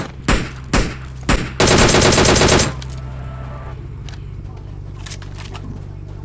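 Several sharp gunshots ring out in PUBG Mobile, then a fast burst of rapid automatic fire, fading into low background hum.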